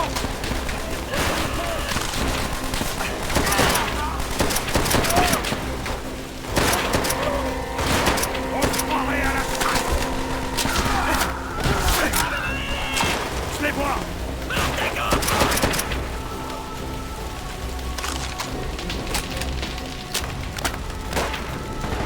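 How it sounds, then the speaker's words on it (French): Machine gun fire in the Call of Duty: World at War campaign, rapid bursts and booms rattling continuously throughout amid battle noise, with soldiers shouting over the gunfire. "Mitrailleuse, en dessous de nous!"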